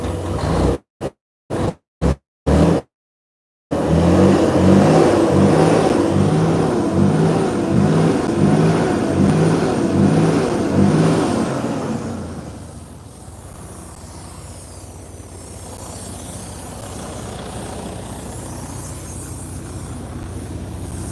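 A heavy DD13 diesel truck engine with a faulty DPF runs loudly and steadily with a rhythmic idle pulse, then drops to a quieter, lower rumble after a few brief bursts at the start.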